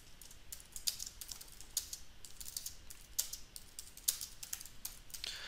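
A computer keyboard clatters as someone types code, a run of quick, uneven keystrokes with several sharper key presses standing out, fairly quiet and close with no talking.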